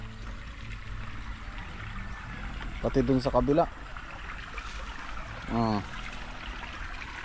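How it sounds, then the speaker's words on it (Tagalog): Strong water flows steadily across a farm field, a constant rushing wash in the background, while a person speaks briefly twice over it. "Ang lakas po ng tubig ngayon, no?"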